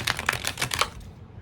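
A deck of tarot cards being shuffled up close, giving a brief burst of quick, crisp riffling clicks that stop after about a second, with no voices.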